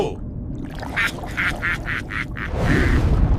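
A duck gives a quick run of about six loud, rhythmic quacks close by. A brief rushing noise follows at the end.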